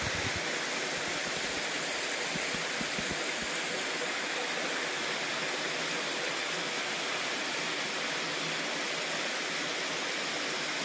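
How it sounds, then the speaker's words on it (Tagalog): Released water rushes into a river in a steady, dense, broadband flow like a waterfall, close and continuous throughout with no voices. "Pakawala na nila ang tubig niya nandito."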